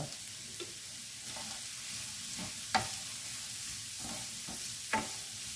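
Onions sautéing in a pan with poultry stock give a steady, moderate sizzle, with a few soft scrapes and clinks of stirring scattered throughout.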